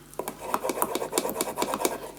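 Thick craft paper is burnished down by hand, giving a close, rhythmic run of dry rubbing strokes, about a dozen quick scuffs in steady succession.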